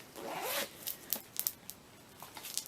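A zipper on a handmade pencil case is pulled open in a quick close rasp, then followed by soft rustling and light clicks of the contents being handled.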